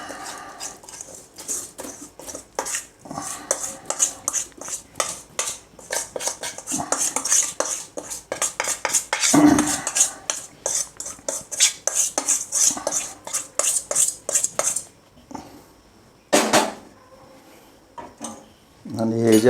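A spoon clinks and scrapes against a pot while spice masala is mixed into poha chivda, rapid repeated metallic taps and rustling stirs, close and busy, with a person talking at times.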